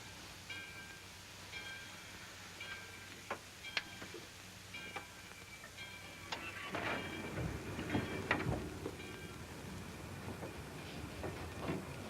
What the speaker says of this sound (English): the train's moving